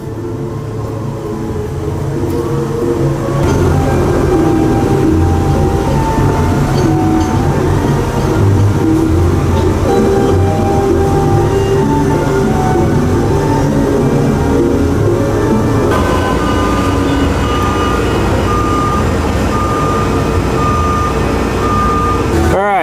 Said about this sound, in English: And there it goes, the train's moving again.